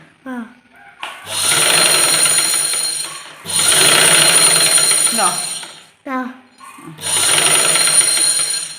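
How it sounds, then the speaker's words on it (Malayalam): A treadle sewing machine winds thread onto its bobbin, a loud, steady whirring in three long runs of about two seconds each, separated by short pauses with clicks as the wheel slows and restarts. "മെഷീൻ ചവിട്ടുമ്പോ ഈ വീൽ കറങ്ങുന്നില്ലേ"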